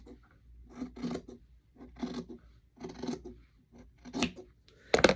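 Scissors trimming quilt fabric, several separate rasping snips spaced about a second apart with short pauses between, close and fairly quiet, ending in a sharper snip, no talking.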